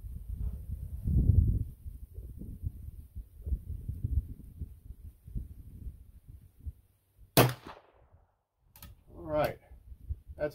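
A Remington No. 2 sporting rifle chambered in .32 extra long rimfire fires a sharp, close crack after a stretch of low talk, followed by a few fainter clicks and handling noises.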